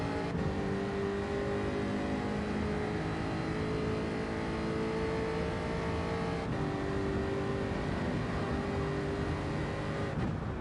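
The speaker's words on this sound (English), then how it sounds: "How good is the sound of the car?" A V8 race car engine in the Gran Turismo 7 video game, running continuously at high revs with a steady loud harmonic drone and slight pitch shifts through gear changes. No one talks over it.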